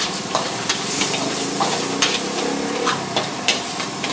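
Glass noodles stir-fried in a pan for pad thai, giving a steady loud sizzle broken by sharp scraping clatters of a utensil against the pan at irregular intervals, with no talking.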